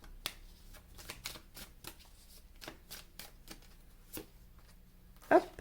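Tarot cards are shuffled with a run of quick riffling, slapping card sounds, then a sharper clatter near the end as cards fall, close and fairly quiet, with no talking.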